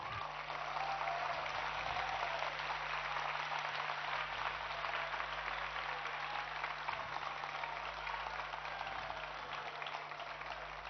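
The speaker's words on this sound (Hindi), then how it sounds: "अच्छी चीज के लिए तालियां तो बजाओ।" Steady, dense applause from a large audience at a Jain spiritual discourse, many hands clapping together without a break for about ten seconds, with a low constant hum running underneath.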